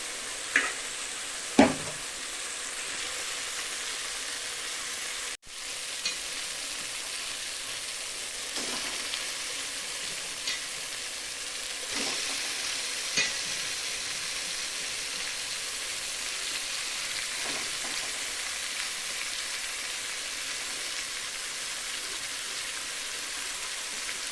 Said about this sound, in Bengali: নেহেরে মাছটা এখন আমি তরকারিতে দেবো